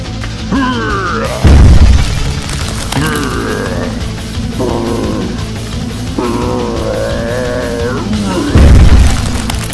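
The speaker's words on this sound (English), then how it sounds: "There's one last thing I want to do, and that's to smash this place apart." A toy Hulk smashes a play set apart in a pretend rescue scene, with two loud crashing bursts standing out between stretches of animated voices talking throughout.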